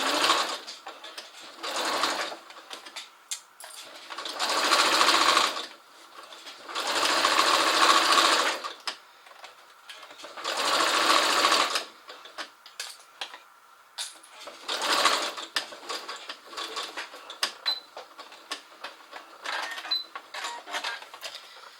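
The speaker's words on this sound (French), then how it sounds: "Et donc je vais faire une couture entre ces deux parties là en fait" Domestic sewing machine stitching a seam with piping, running in several bursts of steady rapid whirring separated by short quiet pauses, close and clear, with a little quiet talk between runs.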